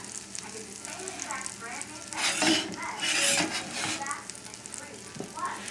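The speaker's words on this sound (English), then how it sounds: "And as long as you see little sizzling like that, we're cooking." A chicken cutlet sizzles steadily in a frying pan, crackling louder in the middle, with occasional utensil clinks and scrapes.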